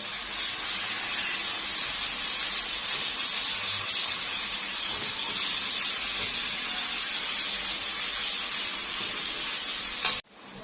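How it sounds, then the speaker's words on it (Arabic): Chicken breasts cooking in their marinade in a pan give a steady, even sizzle and hiss over low heat, continuous and close for about ten seconds before it cuts off abruptly. "ادي صدور الفراخ بتبتدي تستوي في التتبيله بتاعتها"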